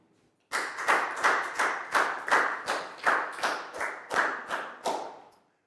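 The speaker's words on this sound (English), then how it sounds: "Big round of applause for Pangpon" Children in a Year 4 maths class clapping together for a classmate, a rhythmic series of about a dozen sharp, loud unison claps in steady beats, fading slightly at the end with no talk.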